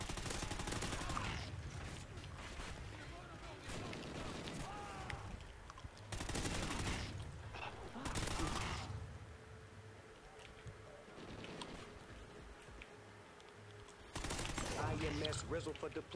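Automatic gunfire in Call of Duty: Ghosts sprays through a wall in several loud bursts separated by short gaps, with game sounds and a player's voice talking between and over the shots.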